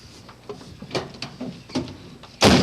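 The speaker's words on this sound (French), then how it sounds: "Ouvre la porte derrière." Rear car door being opened: a series of clicks and latch clunks builds to a loud, broadband thump at the end, close by with no talk.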